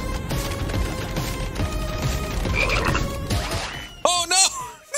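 A frog croaks in the video game Final Fantasy 7 Rebirth, with a string of loud, throaty croaks near the end over game music and effects.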